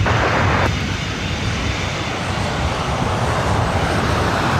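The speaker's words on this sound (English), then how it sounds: "about to take off to Las Vegas on a 737-800." A Boeing 737-800 airliner taking off at LAX bound for Las Vegas, a loud steady jet engine roar with broadband rumble that holds constant throughout, close and unbroken.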